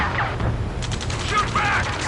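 Rapid bursts of video game gunfire rattle through a chaotic firefight near a space elevator, mixed with mechanical clatter and shouted voices over the action.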